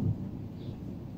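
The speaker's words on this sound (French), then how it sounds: "vous entendez l'orage" Thunder rumbles from a storm outside during indoor knitting, a brief low, dull roll that opens with a slightly stronger push and then holds steady, muffled and distant.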